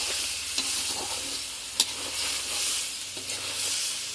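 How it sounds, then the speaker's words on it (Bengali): Puffed rice stirred into a frying pan for a shapla (water lily stem) dish, giving a soft continuous sizzle under several scraping stirs and one sharp clack of the spatula against the pan. "এখন মুড়িগুলো দিয়ে দিই ভালো নাড়া দিই"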